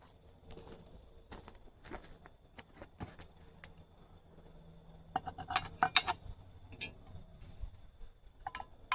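A sesame-topped pie lowered onto a trivet inside a cast iron camp oven beside a campfire, with scattered soft metallic clinks and a brief cluster of louder clanks and knocks close by, with no talking.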